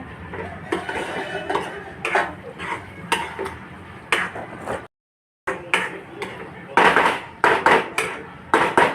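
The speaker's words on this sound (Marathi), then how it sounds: "मी छान असं मिक्स करून घेते।" A spoon scrapes and clinks against a pan while crushed peanut powder is mixed into a cooked tomato curry. The strokes come in an uneven rhythm, close and fairly loud, with one brief pause partway through.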